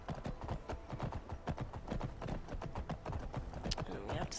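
Horse hooves clip-clop in the video game Skyrim, a quick, regular rhythm of sharp knocks at moderate distance, steady throughout under faint background ambience.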